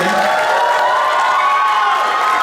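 An audience at the Duta Bahasa Kepulauan Bangka Belitung 2025 finals cheers for the finalists in a loud, continuous crowd roar of shouting and high-pitched voices.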